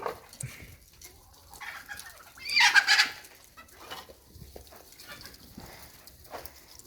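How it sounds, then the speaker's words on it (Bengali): Chickens kept in a small house, eating feed and clucking softly with scattered calls, plus one louder burst of squawking midway, under faint background noise. "এই যে মুরগি এখানে আর কি খাদ্য দিয়েছি তারা এখন খাদ্য খাইতে আছে"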